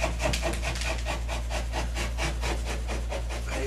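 A putty knife scrapes across a drywall patch in quick, steady back-and-forth strokes, a close, gritty rasping repeated about a dozen times without pause.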